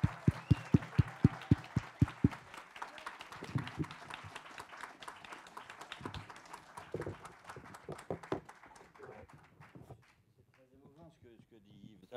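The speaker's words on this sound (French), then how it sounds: "Je vous demande de faire un tonnerre d'applaudissements pour Monsieur Christian Clavier." At an awards ceremony honoring actor Christian Clavier at a Napoleon festival, the audience opens with a few loud, evenly spaced rhythmic claps, then breaks into a thick, sustained round of applause that fades out as a voice begins speaking.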